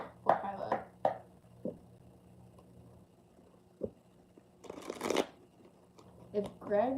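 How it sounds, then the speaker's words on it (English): Tarot cards shuffled by hand in a few short papery bursts and riffles, close and fairly quiet, with a spoken voice breaking in near the end. "Shuffle for Kyla."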